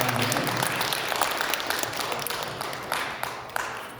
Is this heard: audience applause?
yes